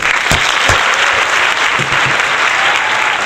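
Loud, dense applause from an awards show audience for the nominees, sustained clapping at an even level with a few sharper claps standing out near the start.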